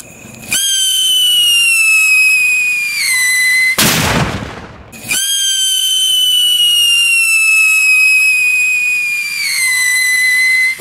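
Tempra 30-gram firecracker fitted with a whistle: a loud, shrill whistling tone sustains, breaks for a sharp burst of noise, then the piercing whistle resumes for several seconds, close and alone.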